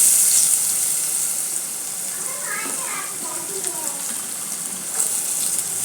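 Sliced onions frying in oil in a pot for Kadapa-style chicken pulao: a steady, loud sizzle hissing throughout, with someone talking over it.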